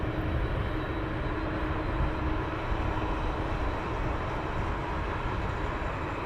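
A Boeing 787 Dreamliner arriving at Heathrow Airport gives off a steady, broadband jet rumble throughout, moderately loud and distant-sounding, with no voices.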